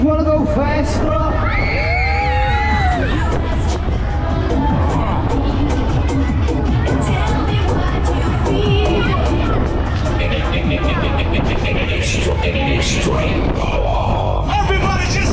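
Riders on a Tagada fairground ride at a funfair scream and cheer in a dense, continuous crowd roar, loud and close throughout, with yells and whoops rising above the babble.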